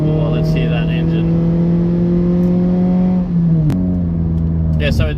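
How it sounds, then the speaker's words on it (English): Engine of a Toyota Rukus, also sold as the Scion xB, an automatic family car, revving near the microphone: a steady loud hum that holds, dips, then jumps with a quick blip, with a person speaking briefly over it. "Oh, let's hear that engine."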